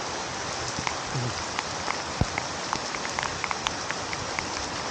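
Steady heavy rain pours down in Palayamkottai, Tirunelveli, a continuous close hiss with scattered sharper drips and taps, and no voices.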